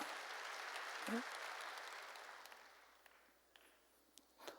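A church congregation at a New Year's Eve service claps, a faint, diffuse wash of many hands that slowly dies away, with one brief low thump partway through.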